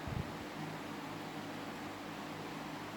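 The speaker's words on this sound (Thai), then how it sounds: "ปิดพัดลมก่อนนะครับ" An electric fan runs indoors with a soft, steady whoosh and a faint low hum, quiet and constant, and no voices are heard.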